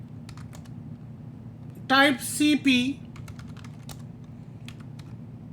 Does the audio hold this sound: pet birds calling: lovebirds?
no